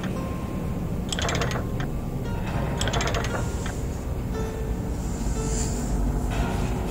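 Ratcheting wrench turning a nut in a horror puzzle video game, a few bursts of metallic clicking and clanking over a steady low ambient drone, no voices.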